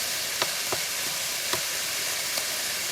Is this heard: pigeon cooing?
no